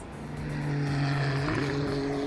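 Several BMW GT race cars from ST Racing roar past at Sebring International Raceway, engines droning loud and close, with a rising pitch shift around the midpoint as they charge by.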